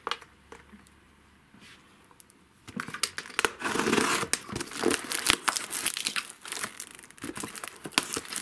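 Perfume parcel packaging being torn open and crumpled: quiet rustling at first, then loud, busy crinkling, tearing and scratching of paper and plastic close by, continuing without speech.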